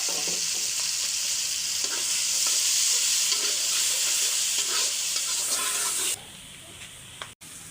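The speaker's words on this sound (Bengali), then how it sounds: "শাকটা তেলে দেব তো এখানে যে কাঁচামরিচ রসুন পেঁয়াজ বেশি করে দিয়েছি" Green chillies, garlic and onion fry and get stirred in hot oil with a steady, close sizzle, which cuts off abruptly near the end, leaving a quieter background and a brief click.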